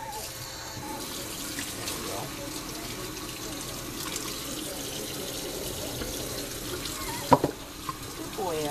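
Water sprays and runs steadily from a hose or faucet sprayer while a dog gets its first bath, a close, continuous hiss and splash with a few brief knocks near the end.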